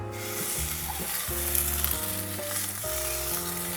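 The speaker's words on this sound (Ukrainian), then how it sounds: "спочатку кладемо жирною стороною на пательню, ось дим пішов, трохи підтопити сам жир" Beef steak fat crackles and sizzles steadily in a hot frying pan, fat side down, with a constant bright hiss and faint popping, no voices.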